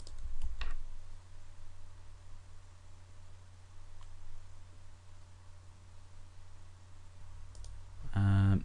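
Keys on a computer keyboard give a few sparse, fairly soft clicks, spread out over a steady low hum.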